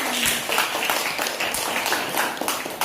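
A classroom audience claps after a student group presentation, a scattered burst of hand claps lasting a few seconds at moderate distance.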